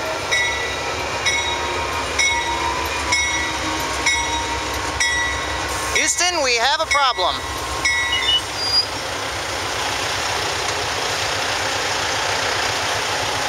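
An Amtrak train rumbles steadily past a level crossing whose gates are malfunctioning, with loud continuous rail noise and a brief warbling sound in the middle, while someone speaks briefly.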